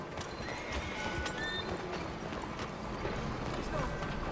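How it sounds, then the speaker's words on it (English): A horse named Flash in Red Dead Redemption 2 clip-clops along a town street and whinnies, the hoofbeats steady and fairly quiet beneath town ambience and faint voices. "Come on, Flash, you dumb horse"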